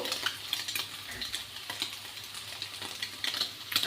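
Rice with a pinch of turmeric stirred and frying in a pan, a steady close sizzle with scraping spoon strokes, no voices.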